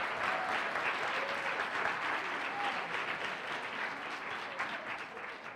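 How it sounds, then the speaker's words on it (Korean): A crowd of listeners applauds at a Korean student leadership ceremony, with dense, even clapping that is fairly faint and distant, sustained throughout without a break. "다시 한번 박수하겠습니다."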